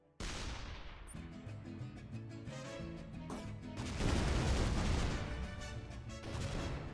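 Explosions from the ShellShock Live artillery game burst in heavy, crashing booms, one big blast after another layered into a dense, loud, continuous barrage.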